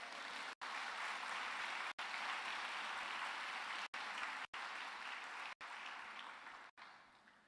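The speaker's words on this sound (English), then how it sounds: "Let's have a big, hearty clap of praise." Sustained audience applause at an evening church summit gathering, a dense, even wash of clapping from a large crowd with a few abrupt dropouts, steady and loud throughout.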